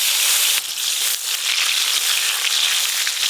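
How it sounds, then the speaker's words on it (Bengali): Black cumin and chopped tomato sizzle loudly in hot oil, a dense, hissing crackle that runs continuously from start to finish, close and with no voices. "ফোড়নে দেব কালো জিরে, টমেটো কুচি"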